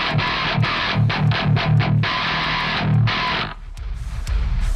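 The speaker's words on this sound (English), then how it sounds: "how to make the most brutal guitar tone you've ever heard, the lowest, djentiest tone you've ever heard" Heavily distorted low-tuned electric guitar (an entry-level Fender Squier Strat) in a djent tone, chugging palm-muted low chords in tight rhythmic bursts, then a sustained chord fading into noise.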